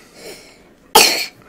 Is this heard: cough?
yes